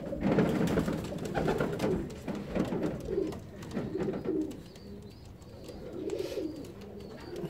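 Uzbek fancy pigeons, with young squabs nearby in a loft, give low repeated cooing calls that rise and fall in soft throaty phrases, close by and steady against a faint background murmur.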